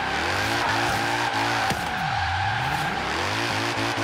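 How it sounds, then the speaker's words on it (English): A car in Forza Horizon 3 drifts around a circuit with a droning engine that rises and falls through gear changes, while tires squeal loudly and continuously, close up. "You're just going to want to keep drifting as much as you can"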